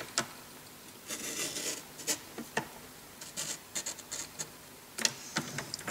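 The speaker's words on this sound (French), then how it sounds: "avec mon outil de coupe, je vais venir couper jusqu'à ma deuxième ligne de pli" A cutting tool scoring paper along a fold line: soft, intermittent scraping and scratching strokes, quiet and close, with no talk.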